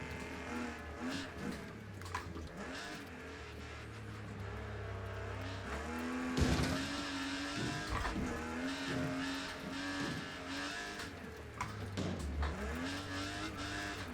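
Race car in the Wreckfest 2 racing game, engine droning and revving steadily for a long stretch, with gear shifts, a sudden loud impact midway and tire squeal underneath.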